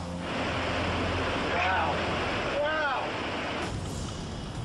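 River water surges after a dam explosion, a continuous loud, roaring rush with a couple of faint wavering tones riding on top.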